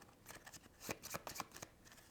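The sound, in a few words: shuffling agenda cards of a board game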